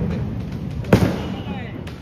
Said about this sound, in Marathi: इथं फटाके फोडायला आलो